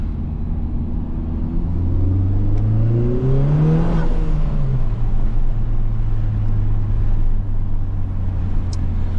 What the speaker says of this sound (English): We'll see what this wind noise is like.